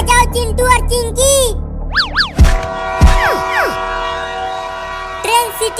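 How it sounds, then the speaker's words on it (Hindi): A train whistle blows at a railway station in an animated children's scene: sliding, wavering whistle tones rise and fall several times amid music and other cartoon sounds, fairly loud and close, with voices talking around it. "ट्रेन सीटी मार रही है"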